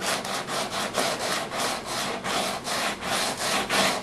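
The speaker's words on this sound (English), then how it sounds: "smooth it out again with your sandpaper" Sandpaper rubbed by hand over a surfboard ding repair, a rapid regular back-and-forth scratching with even strokes, close and fairly loud, with no talking.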